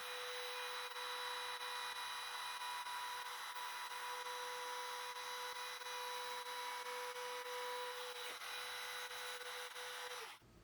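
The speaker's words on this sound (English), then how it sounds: "I use a portable Makita router to do the actual cutting" A portable Makita router freehand cutting a hole for an electrical box, giving a steady high-pitched whine that runs continuously before cutting off near the end.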